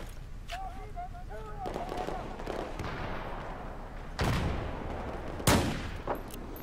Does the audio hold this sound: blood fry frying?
no